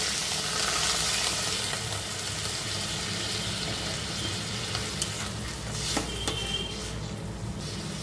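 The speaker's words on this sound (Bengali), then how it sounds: "এবার দিয়ে দেবো জল।" Water is poured into a pan of lightly fried onion, ginger, garlic and green chilli, a steady hissing sizzle with splashing and scattered stirring clicks.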